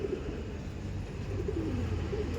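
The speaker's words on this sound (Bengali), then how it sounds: "এইটা পাকিস্তানি পায়রা দাদা, পাকিস্তানের সিলেটি কামাগার" Sylheti Kamagar pigeons coo steadily in a loft, soft, low repeated calls close by with continuous background murmur and no talking.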